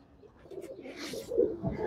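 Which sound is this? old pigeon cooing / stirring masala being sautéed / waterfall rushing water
old pigeon cooing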